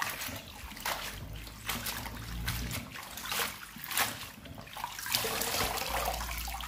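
Pumpkin shoots rinsed in water in a kitchen, a steady running and splashing wash with sloshing and dribbling, close and continuous, without talk.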